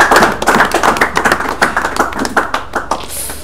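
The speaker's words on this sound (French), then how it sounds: "Est-ce qu'on peut applaudir?" An audience applauds at a Bible quiz event, a lively patter of many clapping hands with distinct sharp claps, loud and close, gradually thinning toward the end.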